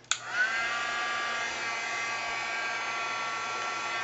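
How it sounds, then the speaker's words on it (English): A heat gun switches on with a sharp click and settles into a loud, steady whooshing roar of blowing air that continues unchanged. "you're going to need a heat tool, and it's going to go on, and it's going to sound a little loud"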